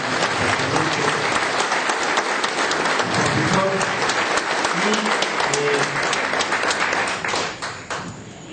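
An audience at a pension and retirement forum in Tulancingo gives a sustained round of dense clapping that tapers off toward the end, with scattered voices over it.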